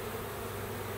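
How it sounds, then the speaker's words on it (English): Dense, steady buzzing of a honeybee swarm shaken into a five-frame hive box close by, continuous and loud with no pauses. "just shook the bees on them. There they go in."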